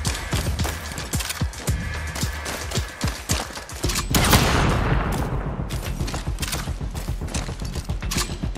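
Rapid bursts of gunfire from the survival shooter Exome crackle in dense, overlapping volleys, with one heavier blast midway that trails off before the firing resumes, loud and close throughout.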